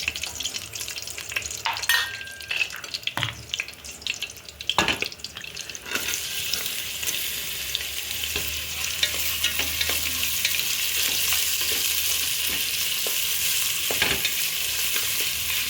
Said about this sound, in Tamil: வெங்காயம் போட்டு நல்லா ஒரு அரைவாசி வதங்குற வரைக்கும் வதக்கணும்.